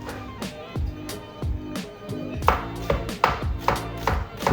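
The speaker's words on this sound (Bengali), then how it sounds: "তো মাস্টার শেফ স্টাইলে পেঁয়াজটা কেটে নিচ্ছি, খচ খচ খচ খচ খচ খচ করে।" A knife chops an onion on a board in a home kitchen, each cut landing as a crisp, evenly paced thunk in a steady run of close, loud strokes with no one talking.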